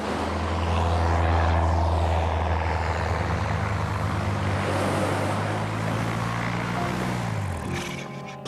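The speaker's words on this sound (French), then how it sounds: "Regarde, un avion allemand." A German airplane in a wartime animated scene, a loud, steady droning engine roar that holds for several seconds, then fades and cuts off near the end.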